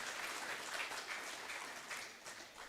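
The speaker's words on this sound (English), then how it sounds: "Can we have a round of applause for them?" Applause from the audience at a surgeons' association conference, a steady wash of many hands clapping at moderate loudness throughout, slightly distant and without talk.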